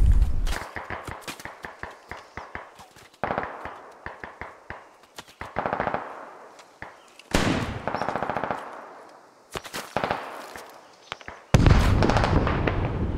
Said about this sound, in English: bunch more of these FAL rifle grenades causing some major problems here